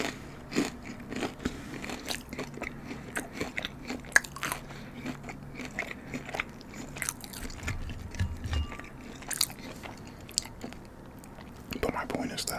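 Close-up chewing and crunching of homemade fried ravioli with parmesan marinara, repeated bites and wet mastication in an irregular rhythm, with a soft voice murmuring briefly near the end.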